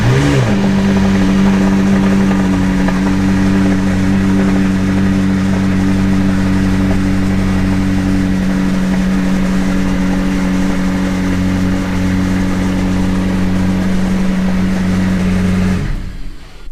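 A McLaren supercar engine fires up with a brief whirring burst, then settles into a loud, steady, deep idle and rumble that holds evenly throughout, close by and without talk.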